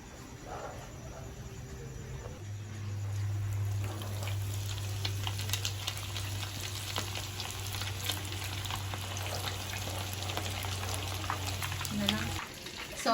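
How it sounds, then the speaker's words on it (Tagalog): Lumpiang Shanghai spring rolls deep frying in hot oil give a steady bubbling sizzle that holds for about ten seconds, close and moderately loud, with a low hum running underneath and a voice briefly audible at the start. "Mas maganda na naka-deep fry ang ating lumpiang Shanghai."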